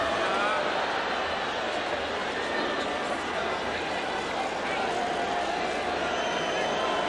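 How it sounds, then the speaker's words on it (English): Subdued football stadium crowd at a 1983/84 European Cup match, a steady distant murmur of thousands of spectators with a lone commentator talking over it. "Well, not surprisingly, this crowd rather hushed."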